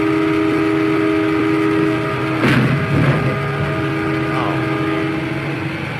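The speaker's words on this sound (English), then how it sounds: "You're not stopping a train, and you hear him on his horn" A train rumbles past, a horn sounding in sustained tones with a sharp burst midway, while people talk loosely over the steady noise throughout.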